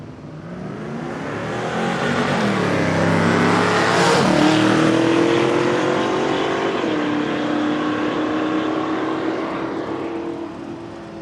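Drag racing cars, one an XR Falcon, launch at a strip on a road trip drag challenge, engines roaring loud and rising in pitch as they accelerate away, a sustained howl that swells and then fades into the distance.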